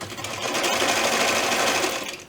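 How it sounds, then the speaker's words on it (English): A sewing machine stitches fabric at a 1/4 inch seam allowance in a short, steady, close-up run, its rapid mechanical whir holding even before easing off at the end. "I'm going to stitch at 1/4 inch seam allowance."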